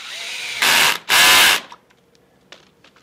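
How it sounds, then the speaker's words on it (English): A power drill drives a screw through a post into a wooden shelf of an audio stereo rack, two loud close whirring bursts followed by faint clicks and handling noise. "Take your drill"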